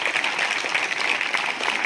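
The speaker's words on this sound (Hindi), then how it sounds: "एक बार जोरदार तालियां गरिमा के लिए" Loud, steady applause fills a school event hall as an audience claps for a student named Garima. The dense clapping holds alone through the short moment without any talk.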